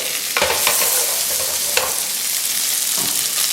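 Hot sauce cooking in a pan for sweet chili chicken, sizzling steadily up close with a few scraping stirs and clinks of the utensil against the pan.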